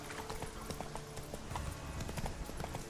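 Horse hooves gallop in The Witcher 3: Wild Hunt as a rapid, steady clip-clop rhythm mixed with game ambience over a few seconds.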